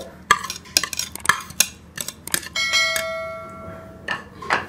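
Raita with tomato, onion and green chilli being mixed in a bowl, a series of sharp spoon clinks and taps against the dish with one brief ringing tone, close and alone.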